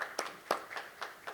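Audience at a corporate presentation clapping in a sparse, faint round, with about five or six distinct hand claps spaced irregularly rather than a full dense applause.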